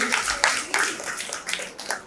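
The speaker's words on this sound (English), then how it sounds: "So big round of applause for that" Audience at a book launch event claps, a moderate patter of hands with a few sharper claps, while a voice talks over it.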